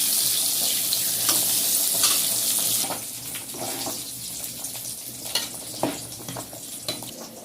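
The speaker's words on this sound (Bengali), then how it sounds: "এখন বেগুনটা কড়াইয়ে ছেড়ে" Eggplant sizzles steadily in hot oil in a wok, a bright continuous frying hiss with occasional soft clicks and stirring sounds.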